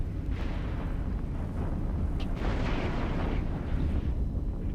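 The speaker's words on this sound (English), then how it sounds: "Lots of big explosions." Big explosions rumble through a space battle in the video game EVE Online, a dense, continuous low roar of blasts and booming bursts, fairly loud and steady with no talk.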